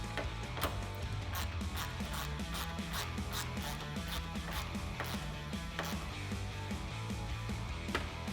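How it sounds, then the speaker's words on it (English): Ratchet tightening bolts on a carbon fiber GT500-style rear spoiler for a 2010-2014 Mustang, a rapid, busy clicking run steadily throughout at close range, without talk. "I'm going to go back with my ratchet now and tighten them all down"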